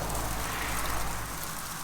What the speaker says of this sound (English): The rain's starting to pick up a little bit.